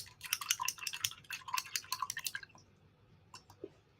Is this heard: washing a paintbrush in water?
yes